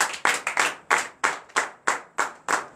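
A church congregation clapping in praise during a night deliverance and prophecy service, a few close loud hands striking in an uneven, lively rhythm of roughly ten claps.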